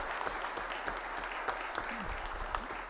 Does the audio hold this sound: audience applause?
yes